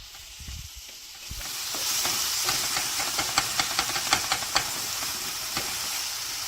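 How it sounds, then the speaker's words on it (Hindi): Chopped tomato sizzling in a hot pan with garlic, chilli and salt, a steady bright hiss of frying with a few sharp crackles and pops, close up and without any talk. "अब टमाटर को भी सॉफ्ट होने तक भूनेंगे"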